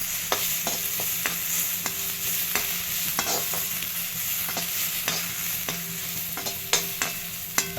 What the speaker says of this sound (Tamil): வறுத்ததுக்கு அப்புறமா அதே மாதிரியே எள்ளையும் வறுத்துடலாம்.